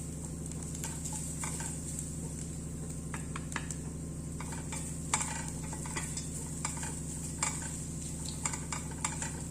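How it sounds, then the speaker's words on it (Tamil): Coconut rice masala with turmeric being sautéed in a pan, a steady low sizzle with scattered spoon scrapes and taps against the metal, continuous and close. "பச்சை வாசனை போகிற வரைக்கும் லைட்டாக வதக்கி விட்டுருங்க."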